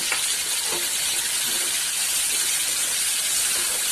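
Onion sizzling in a hot pan for a ghevda bean stir-fry, a loud, steady hiss of frying oil close up that holds continuously with no pauses.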